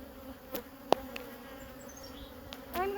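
Honey bees buzz steadily around hive frames during a hive split, a faint continuous drone with occasional individual bees zipping close past, under quiet ambient noise.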